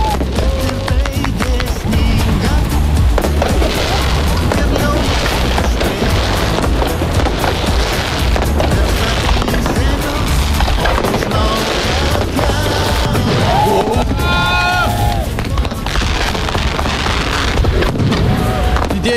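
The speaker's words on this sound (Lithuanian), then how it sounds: "raketos, ferverkai į dangų prie spaudos rūmų" Fireworks and rockets launch into the sky outside the Spaudos rūmai press house for a morning show's birthday celebration, a loud, dense, continuous barrage of bangs and crackles with whistling bursts near the end.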